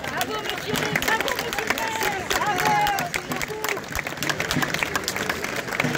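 A crowd at an outdoor costume parade in Vichy claps steadily, dense overlapping applause mixed with crowd hubbub and scattered voices, fairly loud throughout.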